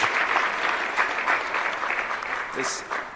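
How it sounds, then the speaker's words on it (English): A crowd at a launch event claps steadily in dense, continuous applause that holds at an even level throughout. "Let's give him a big round of applause."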